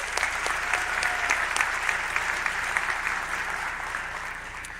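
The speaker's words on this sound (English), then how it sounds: "It was John Gasho and Matthias Baldwin, so if they could stand up, give a round of applause" Applause at a school fall sports awards ceremony, a steady roomful of hands clapping at moderate volume that gradually eases toward the end.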